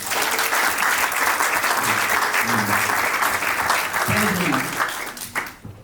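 Wedding guests at a civil ceremony clapping and cheering for the couple, steady sustained applause from a room of people with some voices underneath, fading out at the end.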